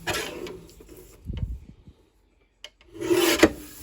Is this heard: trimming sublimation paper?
yes